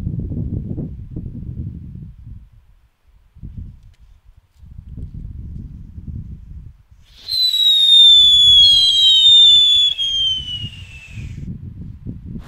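A New Year's firework is lit and goes off outdoors, low rumbling crackles and thumps, then a loud whistling, descending screech lasting several seconds before more crackling bursts.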